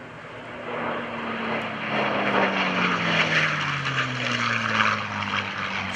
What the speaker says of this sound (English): Listen, I'm going to be quiet, to the sound of the Mustang.